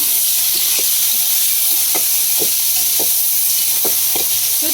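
Dried tangra fish coated with turmeric and salt fries in a pan with garlic, onion and green chilli, giving a loud, constant sizzle and hiss with occasional soft stirring scrapes, no voices.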